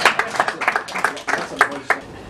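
Studio audience clapping on a Rwandan entertainment talk show, heard as a loose, rhythmic run of distinct handclaps from a small group, with irregular louder claps standing out over about two seconds.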